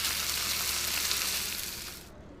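Steak sizzling in a frying pan in a home kitchen, a loud continuous hiss that holds steady, then fades and cuts off near the end.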